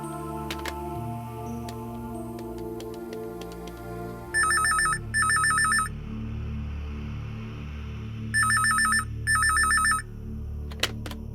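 Telephone ring-back tone heard on an outgoing call, four clear double bursts in two pairs over a quiet musical background, with no talk.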